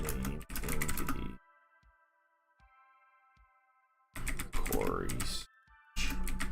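Quick bursts of computer keyboard typing as a query is entered, close and crisp, broken by quiet gaps with a faint steady hum underneath.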